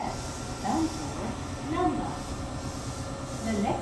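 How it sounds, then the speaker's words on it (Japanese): Limited express train to Koya Namba pulling into a station, a steady hiss and rumble of rail cars with faint wheel squeals, a Japanese announcement voice heard over it. "ただいま到着の電車は特急高野難波行きです"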